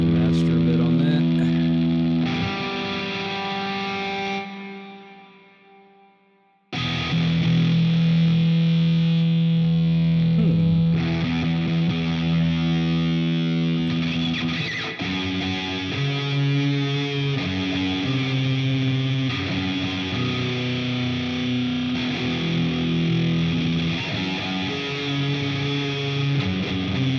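An electric guitar plays distorted riffs through a Pliny amp, loud sustained chords and notes with a brief drop-out near the start, then continuous heavy playing with faint background hum.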